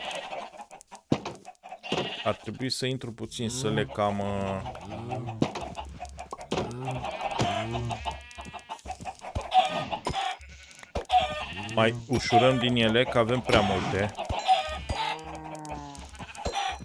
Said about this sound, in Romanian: Uitați-vă câte găini avem.